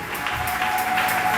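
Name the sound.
congregation applauding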